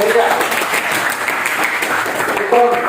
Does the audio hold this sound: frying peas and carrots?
no